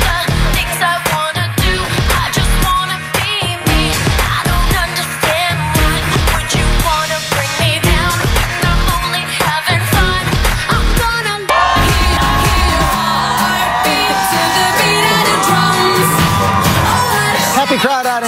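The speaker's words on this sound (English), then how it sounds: "Happy crowd out in Times Square" Loud, dense crowd noise from a happy gathering in Times Square, New York, with shouts and whoops over pounding DJ music, continuous throughout and shifting to steadier music partway through.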